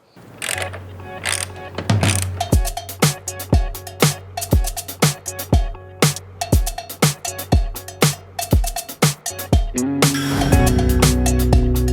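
A hand ratchet clicks in a rapid series of sharp, evenly spaced strokes while tightening taillight fasteners on a BMW M4 G82, loud and close, ending in a brief metallic rattle.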